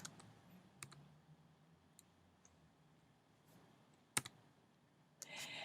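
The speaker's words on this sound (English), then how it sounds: "of course I can't type and talk at the same time" Quick clicks of keys on a computer keyboard during web page editing, faint and scattered, with a few sharper taps and a louder burst near the end.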